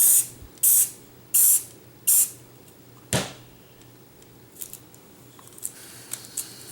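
Four short, sharp bursts of spray from a CA glue activator bottle hit a pen blank, followed by a single louder hiss and then a few faint clicks and rustles in a quiet workshop.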